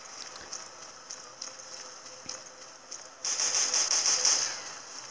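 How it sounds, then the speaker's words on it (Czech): Gunfire from the video game Shadowgun Dead Zone, faint scattered shots at first, then a louder sustained burst of rapid automatic fire lasting about two seconds. "Tak, tady střílí"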